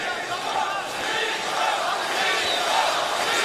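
A boxing arena crowd at a Vitali Klitschko versus Samuel Peter heavyweight bout roars in a sustained, dense wash of cheering that swells slightly, with a commentator talking over it.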